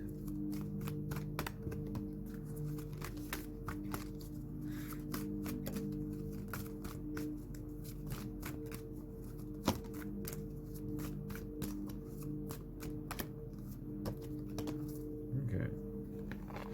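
Tarot cards being shuffled by hand, a quick run of crisp, riffling snaps repeated over and over, close and fairly quiet over a low steady hum in the background.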